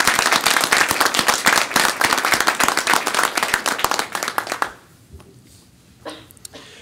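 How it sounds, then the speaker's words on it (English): Clapping for a student at a high school district board of education meeting, a dense burst of many hands that fills the room for about five seconds, then drops away to a few scattered, fading claps. "Let's give him another hand of applause."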